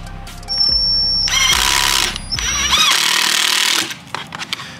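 A power drill whirs in several bursts as it drives a screw into wood without a pilot hole while building a subwoofer box, pausing and restarting, loud and close.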